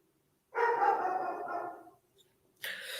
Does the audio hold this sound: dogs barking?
yes